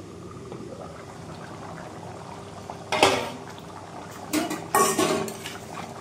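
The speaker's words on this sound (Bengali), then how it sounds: "এখন আমি ঢাকিয়ে নেব।" A metal lid set onto a cooking pot of simmering mutton head curry in a village kitchen, a few distinct metallic clanks and scrapes over a soft bubbling background.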